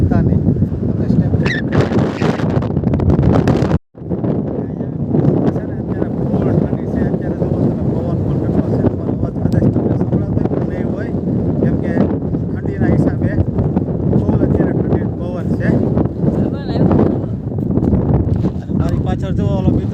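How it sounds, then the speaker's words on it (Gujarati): Cold wind blowing across the White Rann of Kutch salt desert, a steady broadband roar buffeting the microphone for the whole stretch, with one brief dropout near the start and talk heard beneath the gusts. "ફૂલ ઠંડો પવન છે અત્યારે."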